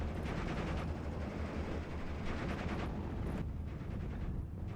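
Battle in the WWII strategy game Steel Division: Normandy 44, with a rifle section's lobbed shell and a 6-pounder anti-tank gun firing on half-tracks. Dense, continuous gunfire and artillery rumble fill the whole stretch, loud and unbroken, with no voices.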